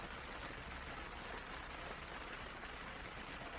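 Rain falling outside a parked car makes a steady, even hiss of drops on the surfaces around it. The sound stays constant and moderately faint throughout, with no voices.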